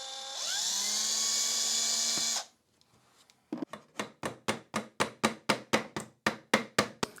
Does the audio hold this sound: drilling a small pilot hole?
yes